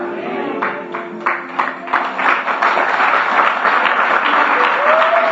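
A church congregation claps during a sermon, starting as scattered hands under a lingering voice and building into full, loud, continuous applause close by.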